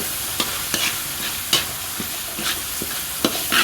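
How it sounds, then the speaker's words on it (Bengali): Mashed potato being stirred into a chickpea spice masala, the spoon scraping and knocking the pan in repeated bursts over a steady close sizzle, with no talking. "আলুটা এখন সুন্দর করে মশলার সাথে মিক্স করে নেওয়া হচ্ছে।"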